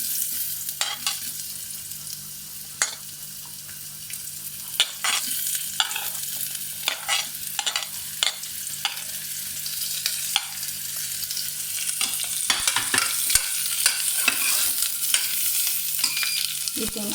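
Beetroots being sautéed and stirred in a pan for soup: a steady soft sizzle with repeated scraping and clinking stir strokes, close and alone, growing busier toward the end.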